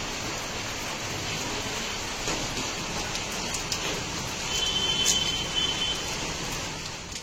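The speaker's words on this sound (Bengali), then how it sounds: "ওয়েদার দেখো কি পরিমাণ খারাপ, কি জোরে বৃষ্টি পড়ছে," Heavy rain pours onto a battered tin-roofed house, a dense, continuous drumming hiss that swells slightly midway, with a faint high tone briefly audible in the background.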